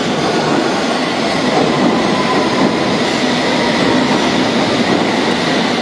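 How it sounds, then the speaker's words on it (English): A London Underground District line train runs at Fulham Broadway station, a loud, continuous rumble with rattling wheels and a faint squeal, steady and close throughout. "the next train that's going to make an appearance is going to be a district line service to somewhere"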